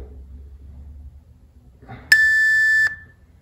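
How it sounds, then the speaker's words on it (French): A workout interval timer gives a single loud, steady electronic beep lasting under a second, ringing out after a quiet stretch of faint room noise. "au prochain bip, 10 secondes"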